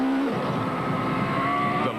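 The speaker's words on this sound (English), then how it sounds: "Listening to the 2-litre Class A8 Golf at high speed was like music to the ears of any car aficionado" A 2-litre Class A8 Volkswagen Golf rally car runs at high speed on a rally stage, its engine a steady, loud sustained drone with a rising pitch as it holds revs.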